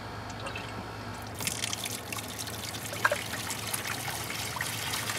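Water trickles and drains through the plumbing of a bubble hash machine, starting as a light dribble and then swelling into a steady, close splashing flow with a few drips.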